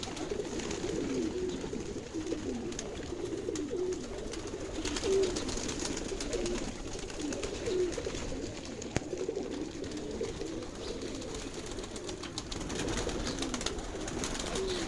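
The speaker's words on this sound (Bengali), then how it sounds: "কবুতরগুলো কেমন" Pigeons coo softly and repeatedly on a small rooftop garden, a steady low murmuring chorus from several birds at moderate distance with light background ambience and no talking.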